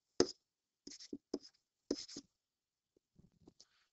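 Short, close scratchy strokes of a pen writing out a maths formula by hand, in several quick bursts separated by brief pauses, with no voices.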